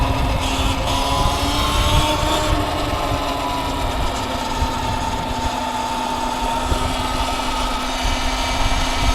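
A Sur-Ron electric bike on a short, easy ride: a steady high-pitched motor whine with a constant tone and road and wind noise beneath it, loud and close throughout.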